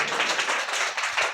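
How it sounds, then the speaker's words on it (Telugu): A church congregation claps hard and fast during a Telugu Christian service, a dense, loud burst of many hands together, brief and steady with no voices over it. "గట్టిగా చప్పట్లు కొట్టు."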